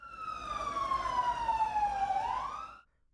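Single falling wail of an ambulance siren at a tire market fire in Kirkuk, sweeping downward before cutting off, moderately distant with no talk.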